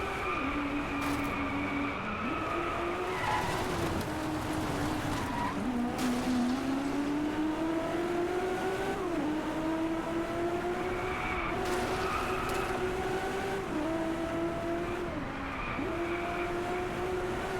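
Race car in the Driveclub racing game, its engine droning steadily and rising in pitch as the tires skid and squeal through a turn under throttle, loud and continuous with no voices.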